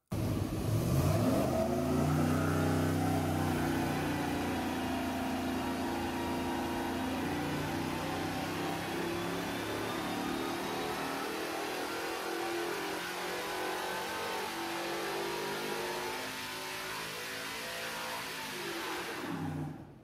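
A V8 engine fitted with a junkyard Gen 5 M90 supercharger revs up hard at the start, then holds a loud, steady high-rpm drone with slight pitch changes before settling back near the end.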